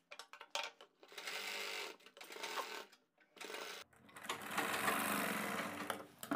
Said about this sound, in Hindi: लेस की दूसरी साइड पर भी सिलाई लगा देनी है।